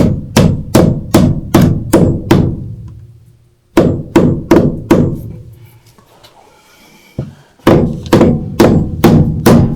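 Fast, heavy hammer strikes near copper pipe in quick rhythmic runs, loud and close, with short pauses and some faint rustling between bursts.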